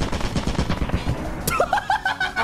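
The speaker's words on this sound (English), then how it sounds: "Heavy machine gun." Heavy machine gun fire in the game Lethal Company, a fast rattling burst of rapid shots filling the first second and a half, then a sharp crack followed by chirpy game tones.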